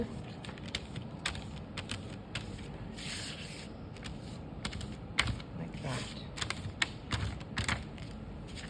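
Oil pastel scribbles across paper in quick, scratchy strokes, close and fairly quiet, with a brief spoken remark partway through.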